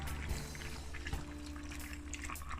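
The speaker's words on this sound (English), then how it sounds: "I'm gonna add about a cup of boiling water to the sides." Boiling water poured into a pot of Jamaican brown stew chicken, a faint, brief splashing pour with light trickling.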